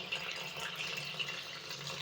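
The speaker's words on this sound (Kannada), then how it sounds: "ನೋಡ್ರಿ ನೀರು ಹಾಕ್ತಾರೆ." Water pours steadily from a container in a home setting during a power cut, a continuous close splashing trickle lasting the whole moment with no voices.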